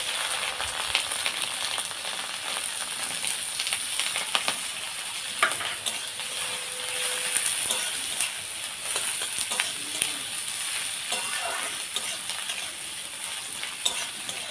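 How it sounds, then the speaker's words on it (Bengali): Chopped onion and green chilli sizzling and frying in hot oil with panch phoron, a steady close crackle with occasional stirring scrapes throughout. "এবার দিয়ে দেবো পেঁয়াজ আর লঙ্কা কুচানো"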